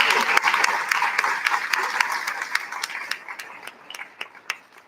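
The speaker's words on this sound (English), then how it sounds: "Let's give them a round of applause." An audience at a school spelling bee applauds the students, with a dense burst of clapping that gradually thins into sparse, distinct single claps standing out near the end.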